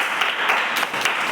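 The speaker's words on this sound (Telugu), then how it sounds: "చప్పట్లు కొట్టండి." Children clapping in a classroom during a maths lesson, a brief, steady burst of many hands applauding together at close range.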